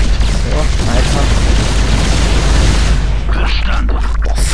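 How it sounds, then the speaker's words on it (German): A loud, dense, rumbling explosion in the StarCraft 2 video game, slowed down in a drawn-out blast that fills the whole clip and fades slightly near the end. "Boah, voll die Slow-Motion Explosion."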